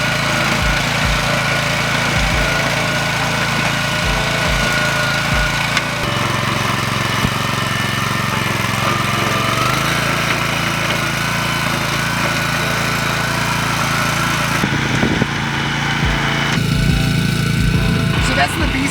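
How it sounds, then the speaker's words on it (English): A BCS walk-behind tractor tiller engine runs loudly and continuously, a rough mechanical drone with occasional shifts in pitch and load. "These tines are going to tear into the dirt"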